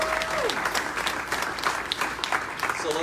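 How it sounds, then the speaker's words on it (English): Brief, dense applause from an audience at a software developer graduation ceremony, steady clapping throughout with a short tone at the start. "one more round of applause for our graduates at Woz U"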